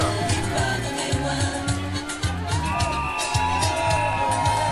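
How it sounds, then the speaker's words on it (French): A protest crowd at a citizens' demonstration in Saint-Pierre, La Réunion, cheers and whoops steadily over a pulsing low rhythmic beat, with the mixed crowd noise sustained and fairly loud throughout. "Ils applaudissent."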